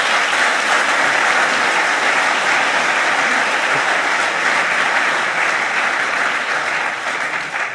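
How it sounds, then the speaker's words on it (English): Loud, dense applause from a seated audience at an academic opening ceremony for a panel, a steady wash of clapping that stays strong and eases slightly near the end. "A round of applause for our fantastic panel"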